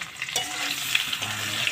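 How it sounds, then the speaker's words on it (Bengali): Browned potato pieces sizzle in a pan as salt is stirred in, a short steady frying hiss with a couple of brief stirring clicks, close and moderately loud. "দেখো আলুটা আমি লাল লাল করে ভেজে নিয়েছি।"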